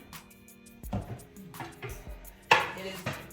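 Metal lid of a Presto pressure canner being fitted onto the pot, a series of sharp clanks and scrapes at irregular intervals, close and fairly quiet, with one louder clatter near the end.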